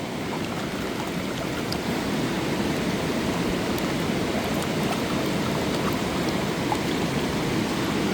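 Calm stream water near Hatcher Pass, Alaska, flows as a steady, close, broadband rushing hiss with no breaks, alone without voices.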